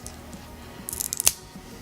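Scissors snip through plastic packaging while unboxing a Nest Cam IQ Indoor security camera, a brief cluster of close, crisp cuts near the end over quiet room tone.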